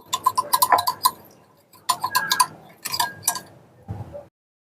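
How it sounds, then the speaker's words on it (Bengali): Metal spoon stirring two spoonfuls of yogurt in a bowl while preparing Ilish paturi, giving quick bursts of bright clinks and scrapes in short clusters, close and clear with pauses between. "দইটাকে ভালো করে একটু ঘেটে নেব"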